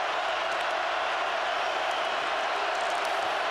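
Stadium crowd at a 2007 Oregon home college football game against Arizona State, a dense, steady roar of cheering and applause that holds at full loudness throughout, no clear speech.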